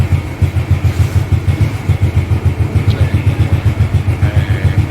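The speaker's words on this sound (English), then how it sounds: "Starting the motorcycle." A motorcycle engine starts and settles into a steady, pulsing idle close by, with regular low throbbing beats and a little mechanical clatter throughout.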